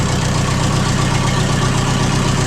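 An old Ford Ferguson Jubilee tractor engine idles loud and close, a steady low rhythmic chug with a slight knock, running alone without voices.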